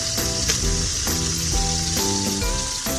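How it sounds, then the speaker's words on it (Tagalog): Fish sizzling in hot oil in a pan, a steady close crackle running throughout with faint metallic clinks and stirring. "Piniprito na natin at itong ating gulay ay paluto na."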